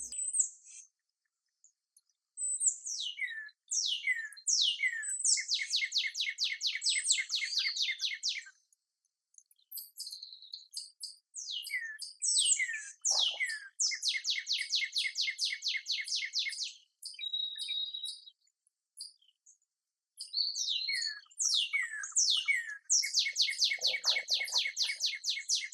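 Songbirds chirp and trill outdoors in repeated bursts of rapid, high twittering phrases separated by short pauses, fairly close and clear with no talking.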